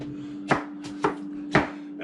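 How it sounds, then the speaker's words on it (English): Apples chopped fast and loosely on a board for a crumble: three crisp knife strikes spaced about half a second apart, close and clear over a steady hum. "we're just chopping these up very, very fast and loosely"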